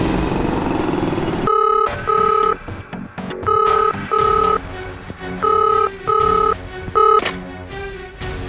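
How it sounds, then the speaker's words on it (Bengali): A telephone rings repeatedly in a TV drama scene, giving short electronic tonal bursts in an even on-off pattern over a low background rumble, with no talking. "স্যার শ্রেয়া ফোন করেছে, নাম্বার হলো 5973937702।"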